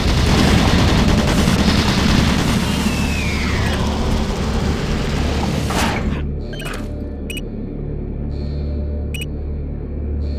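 Automated turret guns in the video game Doom 3 fire a loud, continuous mechanical barrage over a low hum for about six seconds, then cut off, leaving the hum and a few faint beeps.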